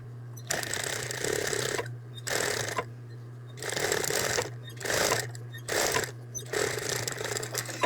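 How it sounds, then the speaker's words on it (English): A serger sewing machine runs a curved seam on a terry hooded towel in short stop-start bursts of fast mechanical whirring, close and clear, with a constant low motor hum through the gaps. "I'm just gonna go ahead and stick it under the machine, under the needle, and sew at about 3/8 of an inch"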